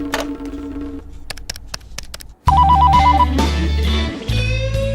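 A telephone rings with repeated bell-like trills, followed by a louder electronic ringtone melody over a low droning background.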